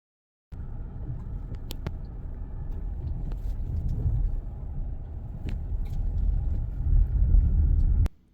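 Car rolling along a dusty dirt road, a steady low rumble of engine and tyres heard from inside, starting abruptly and holding fairly loud with occasional rattles and knocks.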